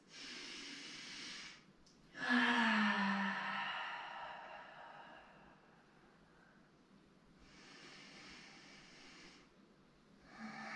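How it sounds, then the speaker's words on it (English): Deep, slow breathing during a yoga stretch: a long airy exhale, then a fuller, louder breath that fades gradually, followed by further soft breaths close by in a quiet room. "Take 3 big breaths here. And see if you can really release on your exhales."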